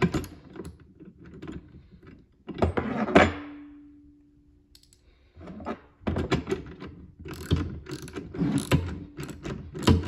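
A new motor frame being tightened onto a main frame: clicking ratchet strokes and clunks in close bursts, a ringing metallic hum after one hit, then a quiet gap before more rapid ratcheting.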